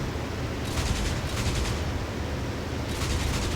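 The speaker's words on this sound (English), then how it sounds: "Send some cannon around his way." Bursts of Spitfire Mk. IXc cannon fire in the IL-2 flight game, two or three loud rattling volleys over a continuous roaring engine drone, with no talk.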